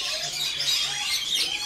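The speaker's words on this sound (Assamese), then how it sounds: "এইবিলাক লাভ বাৰ্ড বুলি কয় এইকেইটা চব লাভ বাৰ্ড" Lovebirds and budgerigars in a large aviary in Assam chirp and call together, a steady, dense chatter of many small birds at close range with no pauses.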